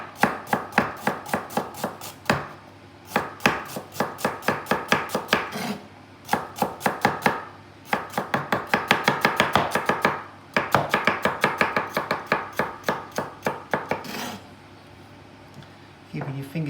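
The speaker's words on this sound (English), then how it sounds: "you rest the knife on your knuckles and you won't cut your fingers off." Knife chopping carrots on a cutting board, for an immune-boosting soup, in steady runs of crisp, close taps broken by short pauses, with a voice talking underneath.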